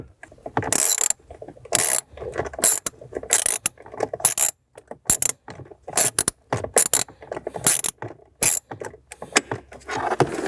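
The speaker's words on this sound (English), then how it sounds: "we'll remove the 10 millimeter screw seen here on the side of the enclosure" A 10 mm screw is backed out of the side of a Jeep Wrangler speaker enclosure under the dash, giving bursts of close ratcheting clicks broken by short pauses.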